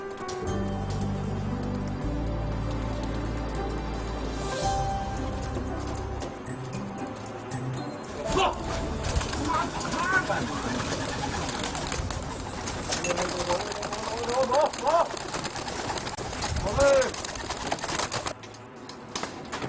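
Domestic pigeons kept by a resident in quiet back streets, cooing in soft, low, repeated rising and falling calls over steady background music and ambient noise.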